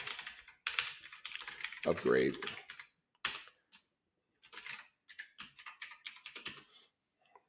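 Typing on a laptop keyboard while setting up a cloud engineering machine, with rapid bursts of close, crisp key clicks separated by short pauses and a few spoken words in between.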